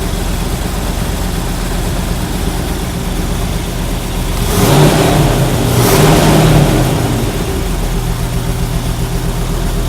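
A car engine idles steadily after a carburetor adjustment, then swells briefly midway before falling back to a low, even hum. The sound is close and continuous, with no talking.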